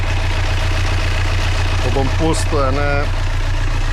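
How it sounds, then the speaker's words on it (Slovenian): Sailboat engine idling steadily just after being started, a continuous low mechanical drone close by, with someone talking over it. "zdaj sem pa vžgal motor."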